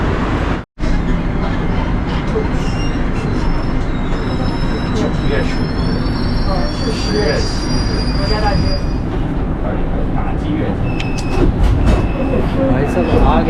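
A crowded Beijing metro train runs from Dongdan toward Wangfujing station, a loud continuous rumble with sustained high wheel squeals and screeches, a brief dropout near the start, and faint voices in the carriage.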